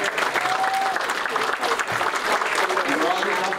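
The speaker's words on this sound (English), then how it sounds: "How about a big round of applause for Robbie County?" An audience at a hospital Christmas party breaks into loud, sustained clapping and cheering for an honoree, a dense wash of hands that holds steady throughout, with voices mixed into the crowd.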